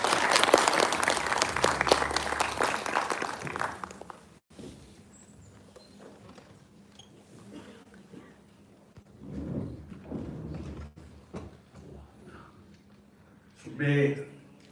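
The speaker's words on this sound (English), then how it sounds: "Can you please have a huge round of applause for that?" Audience applause fills a hall at a world peace congress, loud and dense for the first few seconds before cutting off, followed by quiet room noise, a few scattered claps and murmurs.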